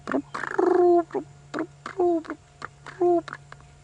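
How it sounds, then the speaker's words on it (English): A ring-necked dove calls repeatedly from nearby during an afternoon safari drive in the African bush, a series of hoarse, rhythmic cooing phrases over a faint steady engine hum. "in the background, the ring-necked dove going"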